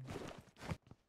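Footsteps in the PUBG battle royale video game: a run of quick, fairly close steps for about a second, a little uneven, with a slight pause before a final soft step.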